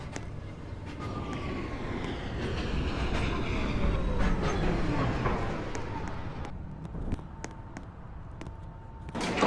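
A subway train pulls into a station platform on a local line, its wheels rumbling and screeching with clatter building loud and close before easing off, while a faint announcement-like voice is heard near the end.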